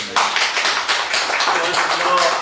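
Applause from a lecture-hall audience at a political academy session, a steady dense patter of clapping running about two seconds with some voices mixed in.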